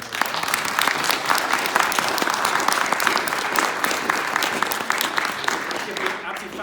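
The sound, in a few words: audience round of applause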